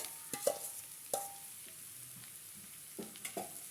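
Mashed potato going into softened, sautéed onions for potato bonda, heard as a faint pan sizzle broken by a few soft spoon scrapes and taps, with quiet gaps between them.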